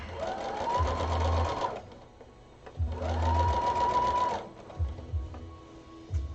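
A sewing machine runs in two steady stitching bursts of about two seconds each, separated by a pause, with a few short clunks and handling noises near the end.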